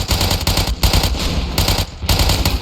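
Bergmann submachine gun from Ravenfield in a World War I trench battle, firing loud, fast automatic bursts with brief gaps between strings of shots.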